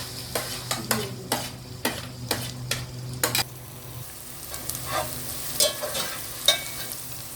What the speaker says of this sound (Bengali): তেলটার মধ্যে মুরগি ভাজার তেলের ভিতরে পেঁয়াজ কুচিগুলো